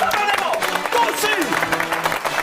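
An audience at a political comedy show claps in a dense, steady patter of applause, with a voice carrying over the crowd.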